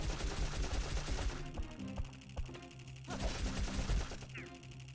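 Gunfire in a video game while building a moon mech, a quiet stretch of rapid repeated shots with bursts and pauses amid game effects, heard alone without talk.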